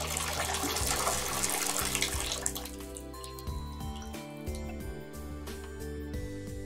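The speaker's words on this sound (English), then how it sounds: "this is a very long shower. At least for a video game anyway." A video game shower runs with a steady rush and splash of falling water that softens partway through, while background music plays underneath.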